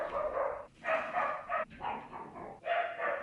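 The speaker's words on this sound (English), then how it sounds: "Had to wait out the dogs barking." Dogs barking in short repeated bursts, several barks at a moderate distance with brief pauses between them, no talk.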